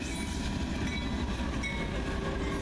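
A CSX juice freight train from Jacksonville rumbles past loud and close, a continuous roar of wheels and railcars with faint clickety-clack throughout.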